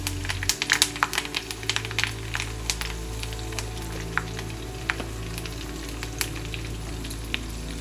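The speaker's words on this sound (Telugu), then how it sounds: "తాలింపు వేగిపోయింది." Tempering of curry leaves and asafoetida frying in oil for red chilli pickle, a loud continuous sizzle close up with rapid popping crackles over a low steady hum, no speech.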